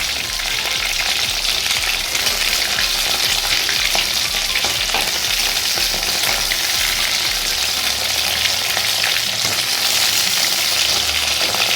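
Pieces of bhetki fish lightly frying in a pan, giving a steady, dense sizzle that runs unbroken from start to finish with faint crackles scattered through it, loud and close with no voices.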